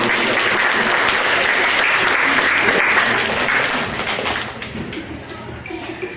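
An audience at a hypnotist show applauds loudly with dense, sustained clapping that gradually thins and fades toward the end.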